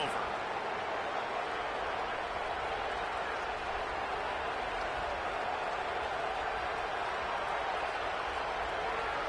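Football stadium crowd at a game against FSU roars continuously, a broad steady wash of distant voices and noise, with commentary talking over it.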